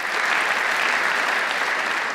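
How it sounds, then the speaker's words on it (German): An audience applauds steadily and loudly throughout, a dense wash of many hands clapping with no pauses or speech. "Applaus ist immaterielle Belohnung."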